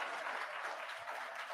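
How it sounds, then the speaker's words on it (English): Audience applause at a school board meeting, a steady wash of clapping from a room of people, continuous and moderately loud without talk. "Audience members, if you would please hold your applause so that we can get through the speakers."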